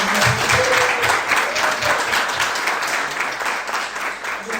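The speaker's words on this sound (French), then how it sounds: "Nous pouvons également applaudir pour les souhaiter la bienvenue." A crowd applauds steadily, a dense wash of many hands clapping at even loudness throughout.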